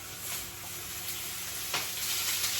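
Onion and vegetables sizzle in a little oil on a hot cooking tray, a steady close hiss and crackle with a brief sharper flare partway through.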